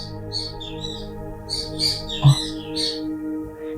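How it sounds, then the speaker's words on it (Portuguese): Small birds chirp and tweet in quick, high bursts, several calls overlapping over a low steady hum. "Aqui tá fazendo um barulho de passarinho"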